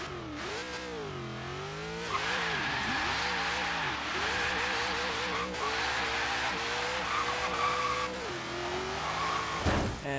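An 800 HP Ford Falcon in Forza Horizon 3 roars through climbing revs and gear changes as its tires break loose and skid, loud and continuous, with a sharp burst of noise at the close.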